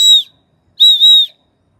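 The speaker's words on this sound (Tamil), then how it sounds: "உண்மையிலே விசில் தான் போல." A turbo whistle kit meant for exhaust pipes gives two short, loud, high-pitched whistle blasts separated by a pause of silence.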